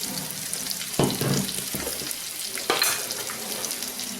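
Onions frying in a pan for a Kerala onion kuzhambu (ulli theeyal), browning steadily with a continuous close sizzle and a few louder stirring scrapes, no talk.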